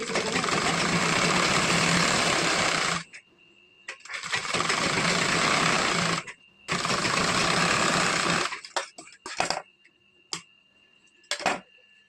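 A sewing machine runs in three long bursts of stitching through blouse lining fabric, loud and close, followed by short stop-start clicks and brief runs as the work is adjusted, with no talking.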